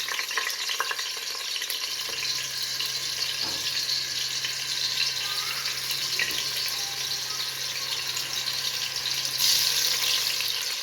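Potato pieces for chicken biryani frying in hot oil, a steady dense sizzle running throughout with soft clinks and stirring, no talk.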